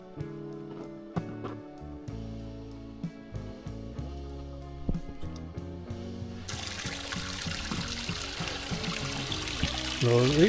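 Water trickles and splashes at a mountain spring on the Dodital trek near Manghi, rising as a steady rushing hiss in the second half after quieter mixed tonal sounds at the start.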